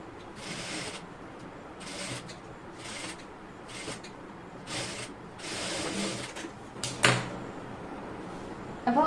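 Sewing machine stitching a cross piece onto a neckline, short whirring bursts of stitching in an irregular stop-start rhythm, close, with a few small clicks and handling knocks between runs.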